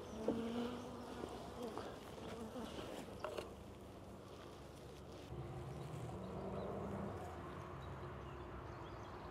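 Honeybees buzzing around an open Dadant hive, a faint, steady drone of many insects with some wind, and a person talking quietly now and then.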